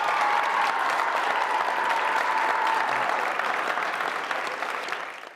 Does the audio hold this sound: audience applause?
yes